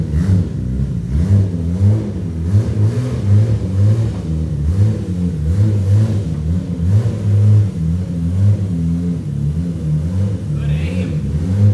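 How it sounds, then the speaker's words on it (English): A Nissan GT-R idles with a deep, steady engine rumble and gentle throttle swells as it reverses slowly onto a vehicle lift in a workshop. "we're going to get the GTR in. We're going to back it up"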